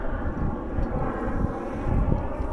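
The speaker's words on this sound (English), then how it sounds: "Now right up there, you might be able to see and hear aircraft." A steady, broad rumble of an aircraft passing overhead, distant and continuous, with some wind buffeting the microphone.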